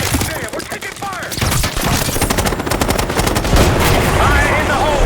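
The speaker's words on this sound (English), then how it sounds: "God damn, we're taking fire!" Dense, rapid gunfire crackles through a Call of Duty Black Ops 6 cutscene, overlapping automatic bursts and single shots rattling almost without pause for five seconds, loud and close, with shouted voices briefly heard beneath the barrage.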